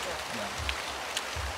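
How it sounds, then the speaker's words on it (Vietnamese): Steady rain falls on a rural Vietnamese farm, a dense continuous patter with low rumbling underneath and no clear voices over it. "Mưa nữa nổi nước đó."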